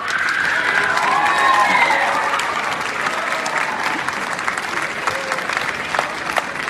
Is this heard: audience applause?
yes